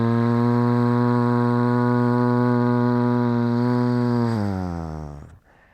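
A human voice imitates a leaf blower with a loud, steady buzzing drone held for about four seconds, then sagging in pitch and trailing off as if the engine winds down.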